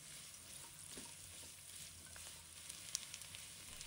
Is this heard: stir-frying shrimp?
yes